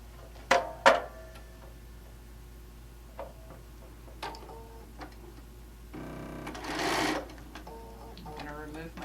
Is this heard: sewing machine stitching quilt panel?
yes